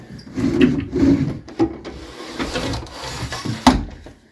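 Old wooden drawers in an abandoned house scrape and rub as they are pulled open and pushed shut, with several loud, close, grinding slides and a sharp knock near the end.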